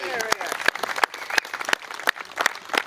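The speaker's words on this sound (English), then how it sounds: "how about a round of applause for the SES and the CFA on the work that they do?" Audience at an Australia Day gathering in Loch Sport clapping for emergency volunteers: sharp, widely spaced handclaps from a sparse outdoor crowd with voices talking over them, rather than a dense round of applause.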